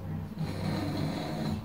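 A person imitates snoring with a rough, rasping throat sound, steady and close.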